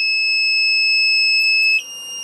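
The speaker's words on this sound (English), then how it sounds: "When I turn it on, you'll hear the buzzer turn on." An active electronic buzzer with its protective seal removed sounds a steady, piercing high-pitched tone, loud and continuous, then drops slightly in level and pitch near the end.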